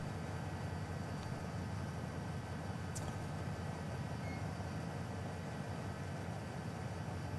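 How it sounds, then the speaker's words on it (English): Dense, continuous rumble of trains in Train Simulator 2019 as one rolls past another, loud and unbroken throughout, with a brief faint squeal near the middle. "Whoa, that's one hell of a train we're passing."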